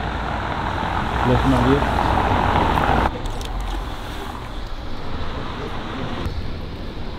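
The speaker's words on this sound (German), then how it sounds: "Aber da kommt ein Auto nach dem anderen leider." Steady roar of cars passing one after another on a wet road, swelling and easing in a continuous stream, with someone talking briefly over it.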